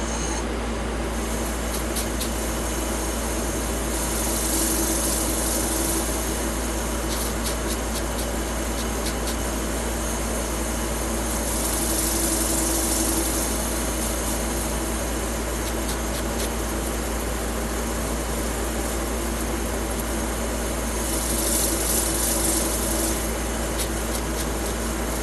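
Buffing a turquoise platter with a wool pad gives a steady, loud whirring drone with a constant low hum. Brighter hissing swells rise and fade about every eight seconds as the pad works across the surface, and nobody speaks.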